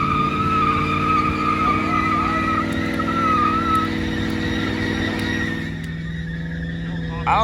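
A car does a burnout on a track burnout pad, engine roaring loud and steady with screeching tire squeal throughout, easing slightly toward the end.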